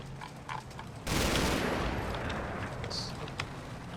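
Sustained Vickers machine gun fire in a combat video game bursts in suddenly and continues as a dense, loud, rattling stream, with a player's voice talking over it before and during.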